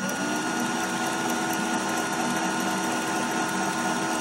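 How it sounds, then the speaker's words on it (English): A power drill spins wire to make a fused clapton coil, giving a steady, loud, continuous motor whine with a dense buzzing texture and no pauses; no talking. "Now that we've set the drill back to normal, I'm going to fire it."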